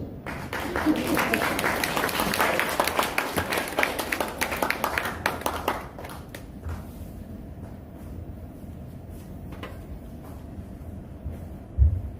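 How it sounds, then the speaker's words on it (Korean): Church congregation clapping in a sustained burst for about six seconds, then fading to quiet room tone with a few faint sounds and a brief bump near the end. "박수로."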